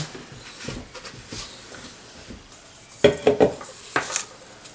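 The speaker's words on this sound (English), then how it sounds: "Let me put the bowl down and I'll show you" Bowl of calendula flower heads set down on a hard surface, a cluster of clinking knocks near the end after softer rustling handling, close and quiet with no talk.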